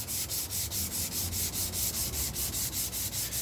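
A resin-topped guitar body is sanded by hand in steady back-and-forth strokes, a close, rhythmic rasping swish repeating about four times per second without pause.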